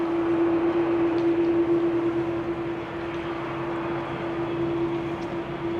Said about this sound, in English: KLM, flight 877, A330 to Mumbai, also coming this way.